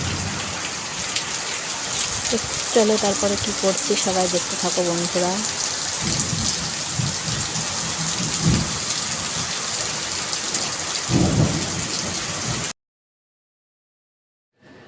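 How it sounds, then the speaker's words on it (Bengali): Heavy rain pours down steadily as a dense, continuous hiss, with a low rumble that may be thunder; someone talks briefly over it before the sound cuts out. "তারপরে দেখো বৃষ্টি চলে এসেছে, খুব বৃষ্টি নেমে পড়েছে।"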